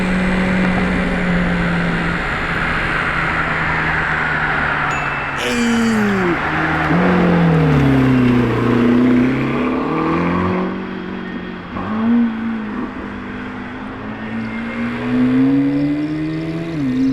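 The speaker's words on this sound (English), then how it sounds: "Okay, pretty loud one. Hybrid V12, hell yeah!" A loud Lamborghini hybrid V12 revs and accelerates close by, its engine note rising and falling in sweeping pitch bends as it passes, with steady crowd and traffic noise behind it.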